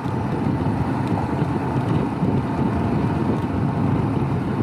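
Strong wind buffeting a rider on a Honda CB500X motorcycle during a rainy morning commute, a dense, loud, continuous roar of rushing air with no speech.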